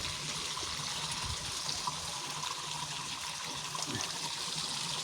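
Water poured steadily over a yellow-spotted freshwater turtle, a continuous close splashing trickle with an even hiss and no pauses, no voices over it.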